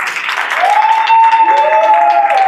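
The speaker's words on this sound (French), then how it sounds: "applaudissez-le les amis" Audience applause on a French dating game show set, a steady wash of clapping that carries through the whole moment, with a sustained whistle-like tone riding over it.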